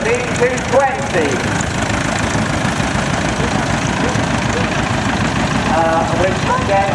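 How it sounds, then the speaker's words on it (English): A Renault D220 tractor idles in the demonstration arena of a steam and country fair, with a steady, loud low rumble running throughout and voices faintly audible over it. "So next we have a Renault, a D220"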